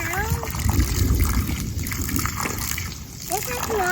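Water splashes and trickles while something muddy is rinsed off outdoors after rain, a continuous close sloshing under people talking.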